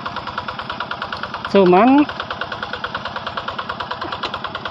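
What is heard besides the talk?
Quick G600 hand tractor with Yanmar TF 65 engine idling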